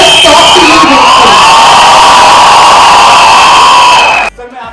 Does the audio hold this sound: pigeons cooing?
no